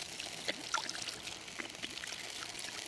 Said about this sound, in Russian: что мы воду просто нальем